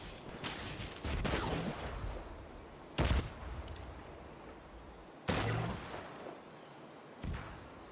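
Mortar fire in The Division 2 video game: several heavy, booming blasts at irregular intervals, each with a crackling tail, moderately loud against a busy battle backdrop.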